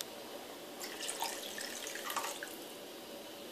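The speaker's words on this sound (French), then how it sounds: "Donc voici la quantité d'eau que je verse et la moitié du bol." Water is poured from a bowl into a cooking pot of eggplant in tamarind sauce, a quiet, steady splashing trickle over a few seconds.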